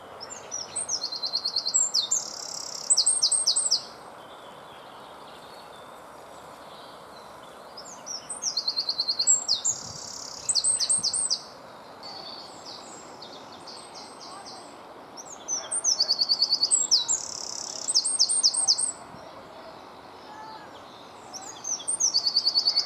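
A wren sings at a pond nature reserve, its loud, rapid trilling phrases arriving in several distinct bursts with short pauses between, bright and close over a quiet background hum.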